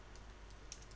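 Keys tapped on a computer keyboard while entering a search into Excel 2016, a few faint quiet clicks at an irregular pace over low room hum.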